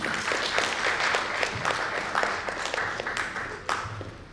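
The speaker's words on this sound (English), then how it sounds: "So a warm round of applause for his contribution." An audience at a book discussion event claps in a steady, dense round of applause filling the room for several seconds, tapering slightly at the end.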